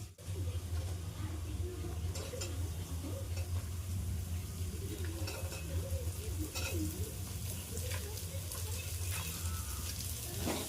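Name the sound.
onions frying in a pan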